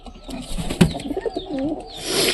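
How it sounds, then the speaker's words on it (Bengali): Pigeons near a young pigeon chick give low cooing calls close by, with a sharp knock partway through and a rising rustle at the end. "লালু কবুতরের বাচ্চাটা খুব সুন্দর হয়েছে।"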